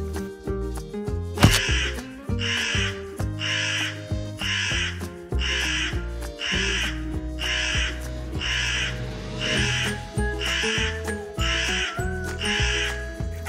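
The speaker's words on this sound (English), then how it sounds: "How many crows are there?" Crow caws repeat in a steady series of about a dozen calls over a continuous musical backing, each caw distinct and fairly loud, in a counting game for kindergarten children.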